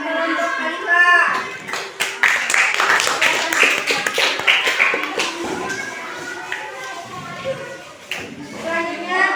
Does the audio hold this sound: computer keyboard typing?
no